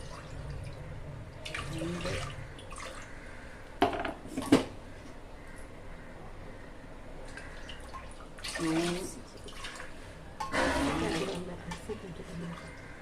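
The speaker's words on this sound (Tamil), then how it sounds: "தண்ணியை நான் அதிலே இப்போ அளந்து ஊற்றிக்கிறேன்" Water measured and poured in a few bursts into a pot of rice, splashing and clinking briefly, separated by quieter stretches of room noise.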